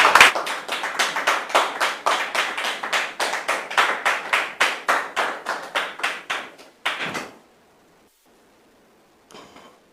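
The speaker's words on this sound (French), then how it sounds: "sous vos applaudissements" Audience applause welcomes guests at a church gathering, a rhythmic run of fairly close, evenly spaced claps for about seven seconds that stops abruptly, followed by near silence and a faint stray sound near the end.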